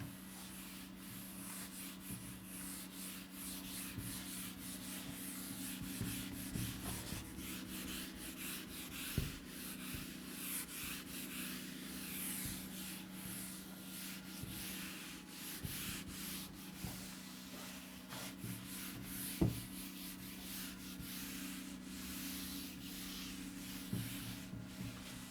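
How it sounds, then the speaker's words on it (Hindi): A board is wiped clean of writing, giving a long, faint, steady rubbing hiss with a low hum beneath and a few small knocks scattered throughout. "चलो उसको रब कर देते हैं"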